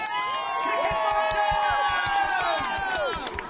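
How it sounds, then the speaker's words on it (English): Crowd cheers and whoops after a band's set at an outdoor Christmas lights event, loud and continuous with shouts and some claps. "Give them another big round of"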